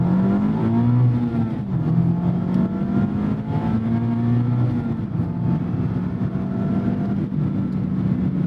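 A 2024 Mazda ND3 Miata's 181-horsepower four-cylinder revving up toward its 7,500 RPM redline, a loud, steady engine drone with rising and falling pitch sweeps heard close and alone throughout.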